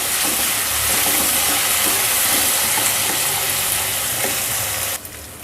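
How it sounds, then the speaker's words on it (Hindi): Ginger garlic paste frying with onions in a pan gives a loud, dense, continuous sizzle with faint scraping underneath, cutting off sharply near the end. "अब इसको भी डाल के चंद सेकंड भून लें।"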